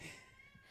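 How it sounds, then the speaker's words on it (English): A cat in a podcast studio lets out a single faint, brief meow, quiet and somewhat distant. "Disturbing cat things happening."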